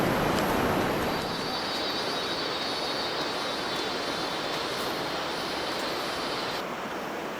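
Water rushes continuously from a waterfall, a broad steady roar filling the space without pause.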